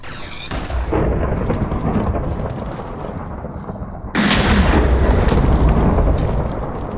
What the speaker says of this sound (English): Just lightning. I love lightning.